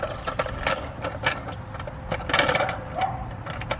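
A Toyota Camry being raised by a jack placed under the middle subframe, giving quiet, uneven mechanical ratcheting clicks in short bursts.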